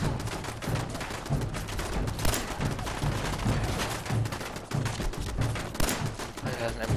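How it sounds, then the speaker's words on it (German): Automatic weapon fire in Fallout 4 rattles in rapid, continuous bursts close up, with dense shots overlapping, while someone speaks German over the shooting. "Alter, der hat automatische Waffen."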